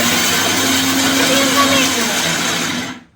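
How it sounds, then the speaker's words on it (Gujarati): A rattly kitchen mixer grinder runs close and loud with a steady, harsh whirring drone that holds for about three seconds and then cuts off abruptly. "આ ખટારા જેવા મિક્સર નો અવાજ આવે છે તમારે"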